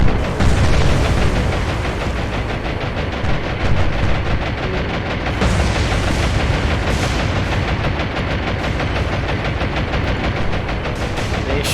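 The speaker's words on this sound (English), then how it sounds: "They're trying to strafe those bastards." Aircraft strafing warships with gunfire in the naval game War On The Sea, Pacific campaign mod: a continuous loud rattle of rapid gunfire and dense rumbling battle noise that stays steady throughout.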